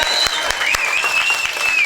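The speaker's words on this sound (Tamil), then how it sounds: "கைதட்டுங்க எல்லாரும்." An audience claps for a performer being honoured at a village drama festival held during a Tamil temple anniversary celebration, producing steady, dense applause with sharp individual claps and a faint whistling tone running through it.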